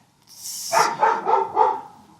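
A dog barking in a backyard, a short burst of four quick barks at fairly close range, alone and without talk.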